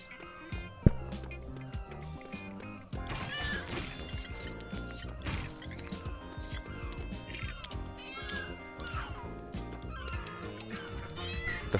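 A cat meows repeatedly in the Lego City Undercover video game, the calls layered over busy game music and effects, with no speech.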